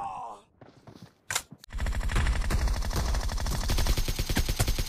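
Rapid bursts of automatic gunfire from the mobile battle royale game BGMI, loud and sustained after a brief quiet start, with sharp repeated shots packed closely together.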